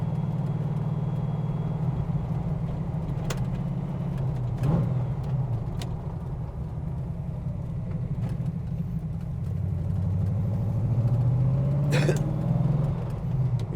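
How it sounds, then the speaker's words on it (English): A GT40 Tornado replica with a carburetted Ford V8 drones steadily from inside the car, its deep induction note swelling and rising in pitch as it accelerates toward the end. "the noise and the induction sound from the V8 is just beautiful"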